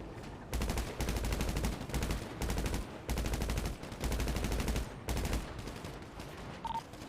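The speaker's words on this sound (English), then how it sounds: "I think he's shooting an AK." AK rifle fire in the GTA NoPixel roleplay game comes in a run of loud, close automatic bursts, each lasting about half a second to a second, separated by brief pauses.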